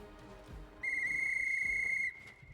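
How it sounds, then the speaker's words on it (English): A dwarf blows a rune-decorated whistle in the video game Pathfinder: Wrath of the Righteous, giving a piercing, steady high-pitched trill that holds for over a second over faint game ambience. "Holding a whistle decorated with runes from his pocket, the dwarf brings it to his lips and produces a high-pitched trill."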